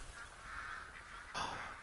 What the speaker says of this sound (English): So I can hear a lot of ducks quacking.